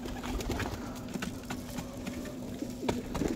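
Pet pigeons coo softly and steadily at close range in a backyard cage area, a low rhythmic murmur with scattered light bumps and rustles, no talk over it.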